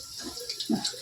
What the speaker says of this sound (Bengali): চা হয়ে গেছে, যেটুক হয়ে গেছে দিয়ে দেই।